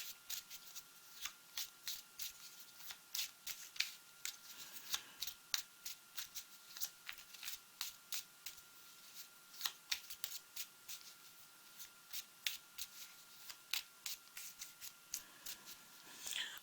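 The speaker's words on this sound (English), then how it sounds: "let's pick clarifying cards." Tarot cards are shuffled in close, quiet bursts of crisp riffling and slapping, repeating irregularly throughout with no voice over them.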